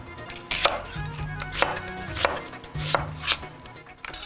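A knife chops Vidalia onions on a board in a kitchen, giving a steady series of moderately loud, crisp knocks with faint background music underneath.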